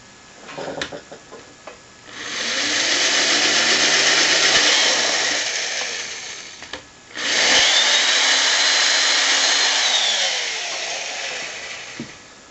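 A power drill bores pilot holes into a 2x4 during chair building, two sustained whirring bursts of several seconds each with the motor pitch sagging under load, preceded by brief handling clicks.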